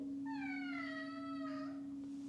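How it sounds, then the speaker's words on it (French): A cat meows at a bedroom door, one drawn-out rising and falling call, close and clear over a steady electrical hum. "Elle miaule devant la porte de la chambre."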